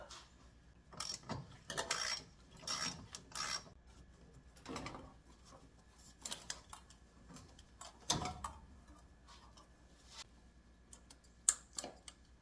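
A socket wrench ratcheting while working on a Mitsubishi 4G15 turbo engine: short bursts of close, crisp clicking come in irregular spurts, separated by quiet gaps.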